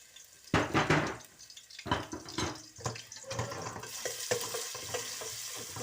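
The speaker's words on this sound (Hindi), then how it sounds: "लहसुन को पहले मैं करूँगी ब्राउन" Garlic sizzles and crackles in a hot pan as it browns, with clattering stirs and scrapes of a utensil breaking up the steady frying hiss.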